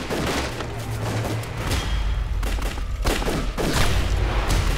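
A dense volley of rifle and gunfire from a Chinese anti-Japanese war film crackles continuously with booming low-end thuds, loud and close, with no clear talk.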